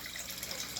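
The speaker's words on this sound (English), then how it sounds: "My sump barrel has a continuously running pump that comes up here through a valve to the fish tank" Water pumped continuously from a sump barrel through a valve into an aquaponics fish tank makes a steady, close, even hiss of flowing and splashing water with no break.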